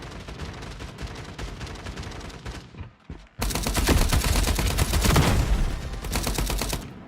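MP5 submachine gun fire in the shooter game FragPunk: sustained rapid automatic bursts, loud and close, with a brief lull near the middle before an even heavier stretch of continuous firing.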